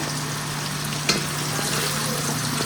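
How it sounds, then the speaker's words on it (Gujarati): Boiled potatoes being stirred in an oiled pan for a Gujarati potato dish, a steady close frying sizzle with a faint scrape of the spoon partway through, no talking. "હવે આપણે મિક્સ કરી દઈશું સરખું"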